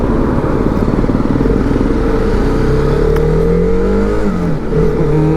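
A 2025 TVS Apache RR 310 sport motorcycle pulling away on the road, its engine droning loud and close with rising revs and a gear change toward the end.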